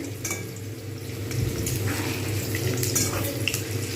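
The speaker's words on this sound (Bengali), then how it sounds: "ভালো করে ভেজে নিতে হবে এপিট ওপিট করে ফুলকপিগুলো" Cauliflower florets frying in hot oil for chilli cauliflower, a steady soft sizzle with faint clinks of utensils on the pan, continuous and fairly quiet throughout.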